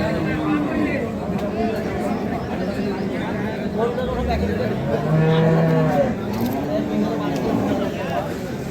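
Deshi-breed dairy cows with calves at Ambari cattle market in Dinajpur let out a low, drawn-out moo amid a busy hubbub of people talking nearby.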